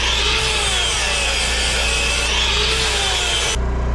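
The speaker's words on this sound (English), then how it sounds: "We'll just grind this down a little bit" An angle grinder works down a steel joint before welding on a wood handler build, a loud continuous abrasive whine with slight pitch wavers that cuts off just before the end.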